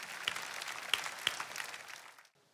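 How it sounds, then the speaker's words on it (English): A church congregation claps together in dense, steady applause with a few sharp individual claps standing out. It holds for about two seconds, then stops abruptly. "Once again, shall we clap for wonderful Jesus Christ?"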